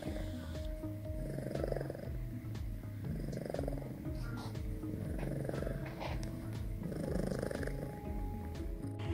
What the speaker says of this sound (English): she's purring and it's pretty adorable